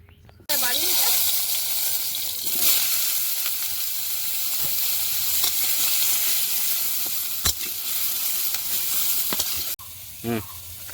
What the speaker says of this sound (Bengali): আর একদিকে কড়াইতে নিম বেগুন বসিয়ে দিয়েছি